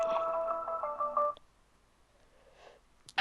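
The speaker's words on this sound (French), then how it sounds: "on m'a appelé sur mon portable" A mobile phone ringtone plays a bright, steady tonal melody for just over a second, moderately loud and close, then cuts off into near silence before a short burst of noise at the end.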